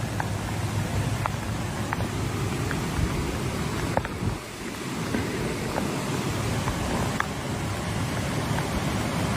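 Continuous loud rushing water from flood water surging down a river roars steadily throughout, a broad dense wash of noise with faint brief clicks scattered on top.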